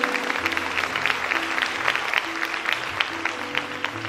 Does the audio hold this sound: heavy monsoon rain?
no